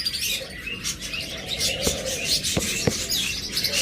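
Lovebirds and cockatiels in a bird shop keep up a busy mix of close, sharp chirps and tweets, with a few louder clicking calls standing out.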